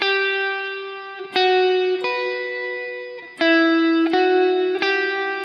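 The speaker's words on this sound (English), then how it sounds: "that's even probably a modest amount of reverb compared to what's on the track" Electric guitar chords with reverb switched back on, in an easy beginner arrangement of a song. Six sustained strums ring out one after another, each tail washing into the next, with no talking.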